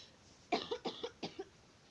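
A string of about five dry coughs in quick succession, close to the microphone and clear against a quiet background.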